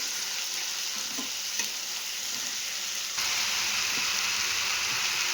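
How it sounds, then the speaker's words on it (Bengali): Ginger garlic paste frying in a pan, a steady hissing sizzle with light stirring knocks that swells louder partway through. "এবার দিয়ে দেবো আদা রসুন পেস্টটা আবার কিছুক্ষণ ভাজবো"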